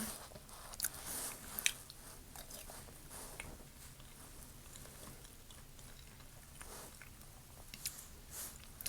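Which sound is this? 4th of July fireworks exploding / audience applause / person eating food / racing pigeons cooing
person eating food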